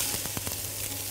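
Onions frying in a small amount of oil in a pan, a steady close crackling sizzle that holds throughout with a few brief louder pops.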